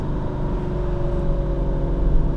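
A Ferrari Testarossa engine pulls in third gear from around 3,000 RPM, a steady, loud, harmonic drone heard from inside the car that builds slightly as it accelerates.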